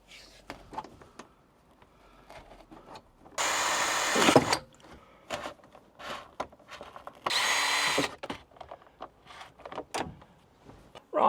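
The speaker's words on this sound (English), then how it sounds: "we need to drill a 6mm hole where each one of those are" A power drill bores 6mm holes into a camper van roof lining while blinds are fitted in a Boxer conversion, with two loud sustained whirring bursts separated by quieter handling and clatter.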